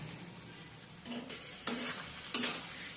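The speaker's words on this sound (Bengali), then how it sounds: "এবারে আদা রসুনটাকে ততক্ষণ ভাজবো এর না কাঁচা গন্ধটা যতক্ষণ না পর্যন্ত চলে যায়" Crushed ginger and garlic fry in a pan for a chana recipe, giving a soft steady sizzle with three short stirring scrapes. It is fairly quiet and close, with no talking.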